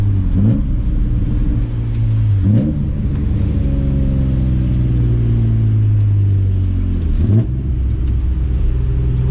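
A BMW E30 fitted with a swapped S50 engine runs with a loud, close, deep rumble, the engine note rising and falling through a few revs, with no talking.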